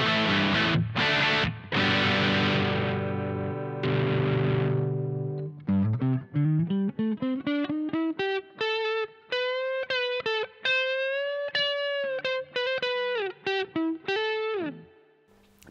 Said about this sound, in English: this is what it sounds like with the crunch channel on this TSL with the inbuilt guitar speaker simulator